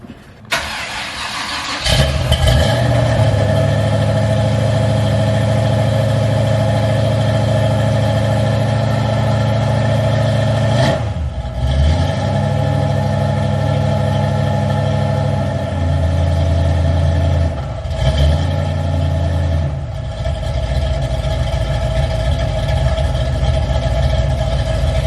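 A 1991 Mustang coupe race car engine cranks over, catches and settles into a loud, close, rumbling idle, with the revs dipping and recovering a couple of times as it runs rough on a cold start.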